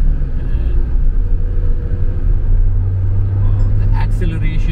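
A Mahindra XUV 700 drives on the road with a deep, continuous engine and road rumble from inside the cabin, a voice speaking over the steady drone.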